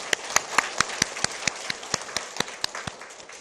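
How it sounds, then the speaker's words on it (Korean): Meeting attendees at an expanded staff meeting applaud one another in congratulation, a soft, steady patter of rhythmic clapping from a small group, heard alone at a moderate distance. "서로 격려의 박수 부탁드립니다"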